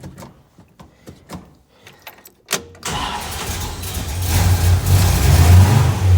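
A few mechanical clicks and knocks, then a 1957 Chevrolet engine with an exhaust leak cranks, catches and settles into a loud, rising rumble as it revs.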